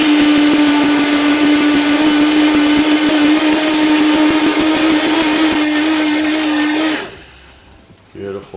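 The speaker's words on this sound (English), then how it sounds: "I'm going to let this run for about 1 minute. I want to get a nice smooth flour, high speed." A Vitamix A3500 blender with the dry blade grinds grain into flour at high speed, a loud, steady, close motor whine with gritty rattling that runs for about seven seconds before cutting off.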